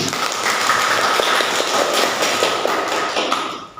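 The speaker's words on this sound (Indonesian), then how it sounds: "Tepuk tangannya." Classroom applause after a group presentation on physical and chemical changes, a steady wash of many hands clapping together, fairly loud and dense, tapering off near the end.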